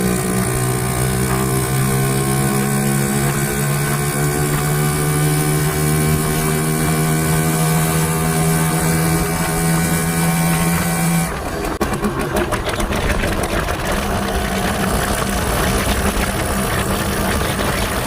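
A 1979 100cc motorcycle engine running on a main road, a loud steady buzzing drone with strong harmonic tones that shifts abruptly to a rougher, noisier note partway through; no talking.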